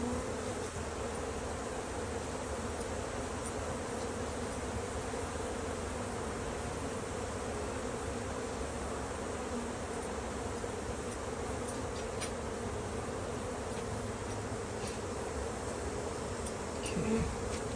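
A swarm of honeybees drones continuously, a dense, even buzzing of many insects that fills the whole stretch with no voices.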